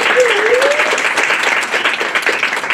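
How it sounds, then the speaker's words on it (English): An audience at a talk on gun rights and feminism breaks into dense, sustained applause that fills the room. A voice briefly rises over the clapping near the start. "One more round of applause for Antonia."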